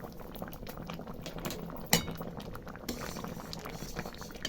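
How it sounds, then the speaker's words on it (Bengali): Lentil dal with winter vegetables bubbles steadily in a pot, a soft continuous boil broken by one sharp metallic clink near the middle. "চলুন ডাল ফুটতে থাকুক"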